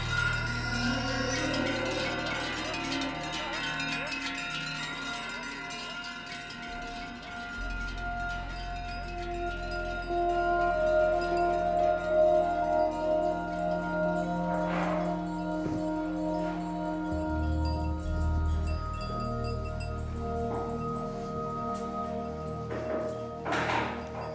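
Handmade metal cowbells clang and ring with long, overlapping tones as they are tuned, struck now and then over a steady low hum, with sustained pitches drifting as they are sounded.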